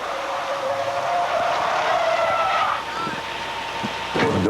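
A bobtail tractor truck with no trailer brakes hard from about 30 mph. Its tires give a sustained skidding squeal over steady road noise, and a faint thump near the end.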